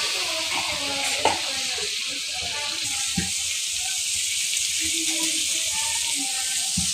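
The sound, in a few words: turmeric and dry chili powder spices frying in a pan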